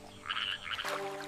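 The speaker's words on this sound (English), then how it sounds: "Distant croaking frogs." Frogs croak in a dense, buzzing chorus near rice paddies, a steady layered rasp that swells and continues without pause.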